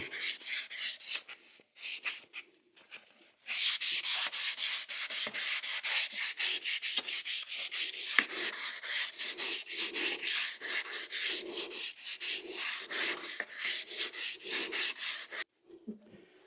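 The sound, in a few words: sanding wood on a lathe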